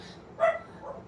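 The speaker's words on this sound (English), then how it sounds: "okay, I'm sorry for that dog. My neighborhood is noisy." A single short dog bark sounds in a noisy residential neighbourhood, moderately distant and faint against steady background noise, followed by a softer trailing yelp.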